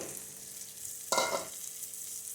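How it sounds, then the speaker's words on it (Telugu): Semolina (rava) being stirred into fried onions in a pan for coconut upma, a brief scraping, sizzling burst about midway over a steady low background hiss. "ఇప్పుడు ఈ ఉల్లిగడ్డలు వేగినాయి, రవ్వ వేసుకోవాలి."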